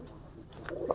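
Domestic pigeons kept for breeding coo softly, with a low, brief burst rising near the end of a short, quiet stretch.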